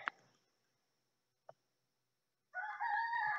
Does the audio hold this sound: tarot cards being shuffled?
no